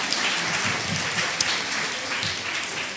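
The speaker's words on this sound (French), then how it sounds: "On remercie vraiment les interlocuteurs qu'on peut applaudir." Audience applause at a seminar on decriminalising homosexuality in Africa, a dense steady wash of many hands clapping that fills the whole stretch at an even level, its texture close to heavy rain.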